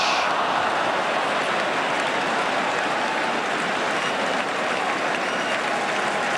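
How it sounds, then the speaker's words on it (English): A football crowd at Kenilworth Road applauds all around the ground after a Luton Town move against Villa in 1983, a loud, dense, steady roar of clapping like heavy rain. "applause all around the ground for that Luton Town move"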